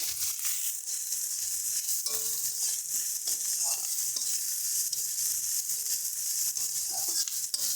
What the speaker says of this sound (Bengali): আলু বেগুন আর চিনি ভালো করে মিশিয়ে নেব মশলার সাথে